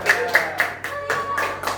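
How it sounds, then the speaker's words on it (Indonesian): Classmates clapping for a presenting group in a classroom session, a short burst of distinct, rhythmic hand claps at close range, with voices in the background. "Oke, tepuk tangan untuk kelompok tiga."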